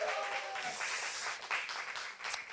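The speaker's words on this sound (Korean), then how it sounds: "지금 한번 격려의 박수, 또 환호성 한번 부탁드립니다" A congregation at a Thursday worship service applauds and cheers. Dense, steady clapping with crowd noise fills the room for a couple of seconds.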